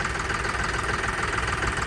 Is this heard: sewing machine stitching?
no